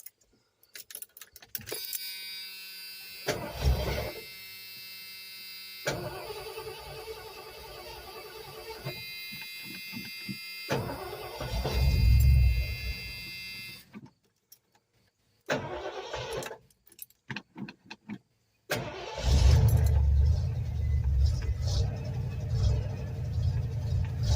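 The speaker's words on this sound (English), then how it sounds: "This old truck here sure does sound good. Cold. It ain't warmed up or nothing." An old pickup truck is cranked cold with several ticking starter attempts and silent gaps before the engine catches, then idles roughly and loudly close by.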